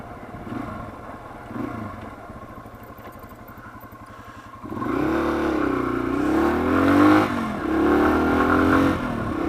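A Yamaha TW200 dual-sport motorcycle fitted with a wider 12x8 rear rim, its single-cylinder engine idling and then revving up loudly as it rides off, with rising and falling engine pitch close by.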